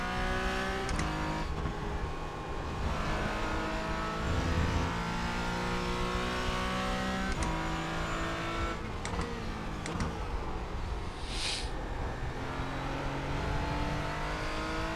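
A race car engine in the sim racing game iRacing, a loud continuous high-pitched drone that climbs in pitch as the car accelerates, with brief dips at gear shifts, heard from the cockpit.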